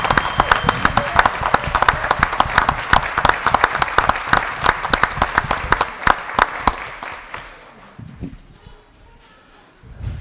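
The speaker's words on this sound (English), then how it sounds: "Let's give these guys a round of applause." Applause from the audience at a Board of Education meeting, many people clapping in a quick, busy patter that fades and thins out after about six seconds, leaving only scattered sounds.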